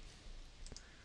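A computer mouse clicked while designing a circuit board, two quick, faint clicks close together over low background hiss.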